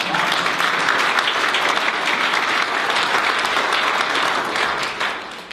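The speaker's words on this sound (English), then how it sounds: "Yes, please applaud." Sustained applause from a large audience, a dense steady clatter of clapping that holds for several seconds before starting to fade.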